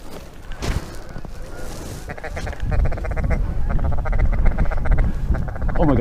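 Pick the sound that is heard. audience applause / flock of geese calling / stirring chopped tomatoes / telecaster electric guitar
flock of geese calling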